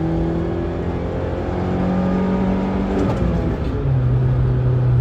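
Car with its muffler removed, loud raspy engine droning and revving, the pitch dipping briefly and then settling at a lower steady rumble, heard close by.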